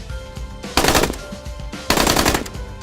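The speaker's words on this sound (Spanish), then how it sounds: "Disparos se escucharon." Two loud bursts of rapid gunfire ring out, separated by a brief lull with scattered rumbling in between.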